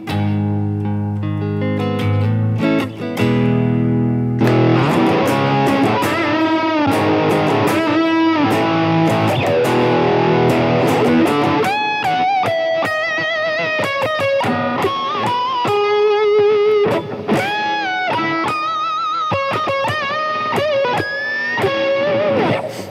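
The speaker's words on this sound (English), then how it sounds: "This is the only distortion pedal I need" Electric guitar played through a Boss DS-1 distortion pedal, loud and close: a few sustained heavily distorted chords, then quick lead runs with bent notes and squealing pinch harmonics, no talking.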